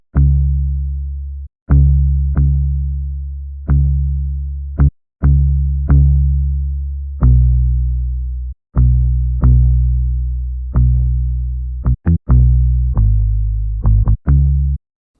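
A deep, plucked acoustic bass plays a looping line of sustained low notes with a few quick pickups, loud and alone with no talking.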